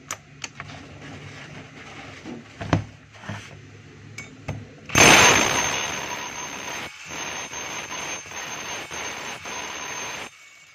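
A DeWalt D25032 rotary hammer kicks on in hammer mode with an abrupt, loud start, then keeps up a harsh, buzzy percussive clatter for several seconds. Scattered knocks and handling noises come before it.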